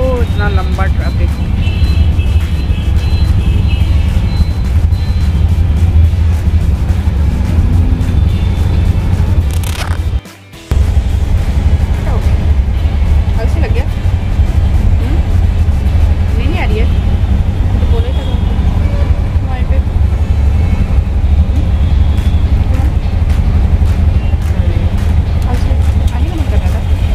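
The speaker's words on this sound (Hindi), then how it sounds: "ओ इतना लंबा ट्रैफिक" A long road traffic jam heard from inside an auto rickshaw: a loud, constant engine and road rumble with faint horns and traffic noise around it, broken only by a brief dropout partway through.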